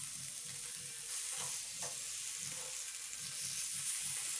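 Dendeng beef sizzles steadily in a Teflon pan while it grills, with a constant bright frying hiss and a faint rhythmic scraping of stirring underneath, close and with no voice.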